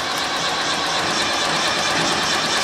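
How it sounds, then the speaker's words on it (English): An International BTD6 diesel engine cranks and catches with a rough, knocking clatter, a steady dense rattle that runs loud and close throughout without pause. "A bit of a diesel knock, mate."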